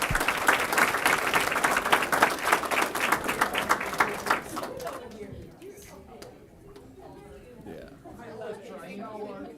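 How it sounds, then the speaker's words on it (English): A school board meeting audience gives a round of applause for its PBS schools. The clapping is loud and dense for about five seconds, then thins out to scattered claps and murmuring. "One more round of applause for all of our PBS schools."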